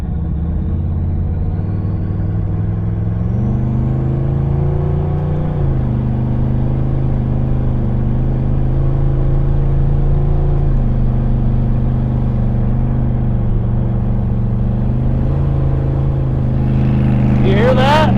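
A car engine hums and rumbles steadily while driving, the pitch shifting as it changes speed, loud and close with a brief higher whine near the end.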